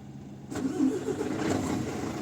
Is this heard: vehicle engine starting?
yes